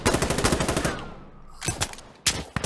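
Rapid automatic rifle fire in the tactical shooter game Insurgency Sandstorm rattles close and loud in a sustained burst, then a couple of shorter follow-up bursts after a brief pause.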